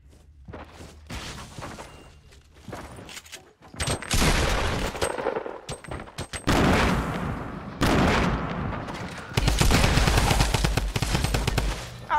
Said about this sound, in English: He killed with a drum gun.